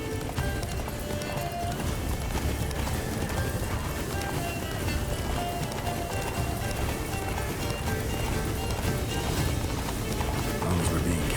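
Roach, Geralt's horse in The Witcher 3: Blood and Wine, gallops steadily with loud, continuous hoofbeats, a brief whinny rising now and then over a dense wash of game music and ambience.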